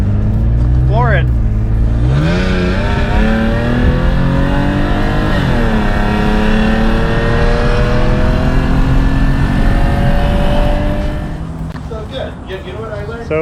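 An old junker car accelerates hard on a drag strip, engine revving up through rising gears in long loud sweeps, close and dominant, with a voice briefly audible before the engine settles and fades near the end.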